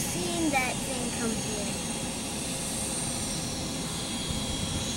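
An American Airlines Boeing 737-800 jet roars steadily overhead as a loud continuous engine rumble and whine, with people talking underneath.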